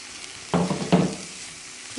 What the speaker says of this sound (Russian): Я уже поставила сковороду на плитку для того, чтобы обжарить грибы с луком.